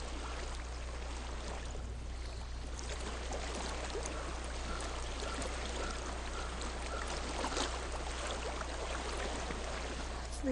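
Flowing stream water in the video game Hellblade: Senua's Sacrifice, a continuous broadband rush and trickle that stays fairly even throughout, with no voices.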